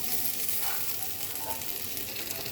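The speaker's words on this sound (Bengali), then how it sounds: "চলো মশলাটার সাথে এটাকে কয়েক মিনিট ভাজা ভাজা করে নেই" Soybean chunks fry with spices in a pan, giving a steady, dense sizzle that stays even and close throughout, with faint stirring and no voices.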